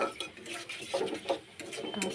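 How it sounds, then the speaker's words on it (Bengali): Onions and black cumin frying in a pan while a utensil stirs and scrapes, with clinks and short metallic scrapes in an uneven rhythm, close up, alone. "এই দেখো পেঁয়াজ ভাজা হচ্ছে, এখন এর মধ্যে যে অল্প কালো জিরে দিয়ে দেবো।"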